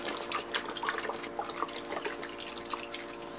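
Drinking water is poured onto mangoes in a pot while Cuban-style mango in syrup is made, a close run of dripping, splashing trickles with irregular droplet plinks and no talking.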